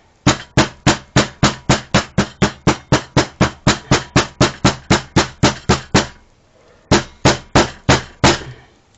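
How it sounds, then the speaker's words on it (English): Rapid, even series of sharp hammer taps on a feather spine, about three per second, loud and close, pausing briefly before a few more strikes. "I'm going to use a hammer and gently"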